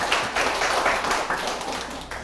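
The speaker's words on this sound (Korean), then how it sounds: "노아 형제 박수 한번 부탁드리겠습니다" A church congregation claps together at a prayer meeting, a steady, fairly dense patter of many hands that holds at a moderate level for a couple of seconds and eases slightly near the end.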